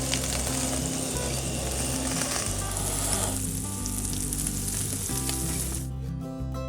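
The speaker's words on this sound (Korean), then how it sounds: "곱창이 이 정도로 노릇노릇할 때까지 볶아주세요" Beef intestines (gopchang) stir-fry in a hot pan, a loud, dense, continuous sizzle with stirring scrapes close up. The sizzle thins out near the end, and no one speaks.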